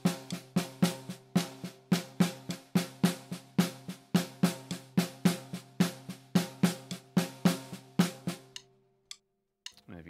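Drum syncopation exercise with the gaps in the melody filled by the other hand: a steady, dense stream of even strokes with accented beats, close and alone, stopping near the end.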